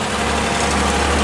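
A 1948 Chevy dump truck engine drones steadily while the truck crawls slowly up a mountain road, a dense and continuous close rumble.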